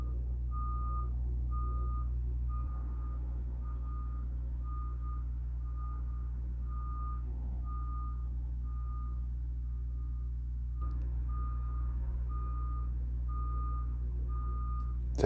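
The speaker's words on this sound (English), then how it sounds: "Just stop with the beeping." A truck's reversing alarm beeps steadily at an even rhythm, pausing briefly before resuming, over a low constant engine rumble.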